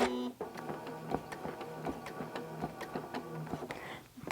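A sewing machine stitches along the side of a quilt, producing quick, regular mechanical ticks and clatters at close range, with a brief pause near the start and a slowdown at the end.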